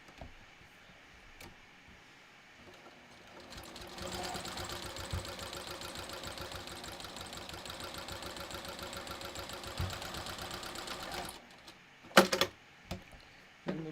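A sewing machine double stitches a leather road trip wallet in one steady, rapid run of about seven seconds after a quiet start, then a few sharp clicks and knocks as it stops.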